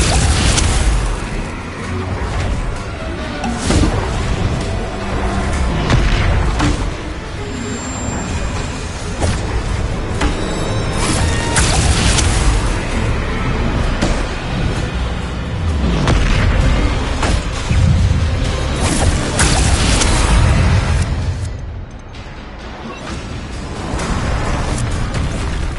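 Bombarda spell explosions in a Hogwarts video game: continuous loud, dense booms and crashing bursts roll on almost without pause, heavy low rumble layered with debris and magical effects.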